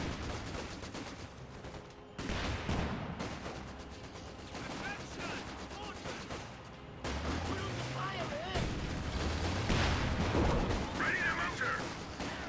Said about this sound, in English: Panther shoots nicely, penetrating the thick armoured hide of the Churchill tank.